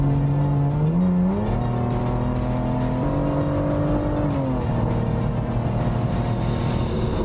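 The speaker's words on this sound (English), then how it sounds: "The exhaust sounds wild." An Aston Martin DBS sports car engine revs and roars loudly, its exhaust note climbing and shifting in pitch, with crackles and pops over the steady drone.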